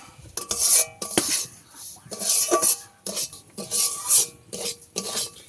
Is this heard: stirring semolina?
yes